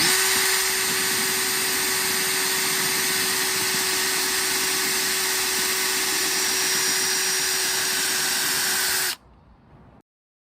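A power drill whines at a steady, high-pitched drone for about nine seconds while boring a hole in a ceramic pot, then stops abruptly, leaving a faint quiet tail.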